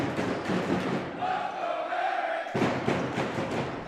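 A student section of crazies cheers at a high school varsity basketball game against alumni, a loud crowd roar and shouting that briefly drops to a single sustained yell before the full noise returns.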